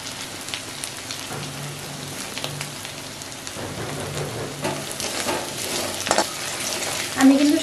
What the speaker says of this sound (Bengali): তো এই তেলের মধ্যে আমি দেব অল্প একটু আদা কুচি, মশলা মানে গুঁড়ো মশলা দিয়ে সবজিটাকে করবো আমি।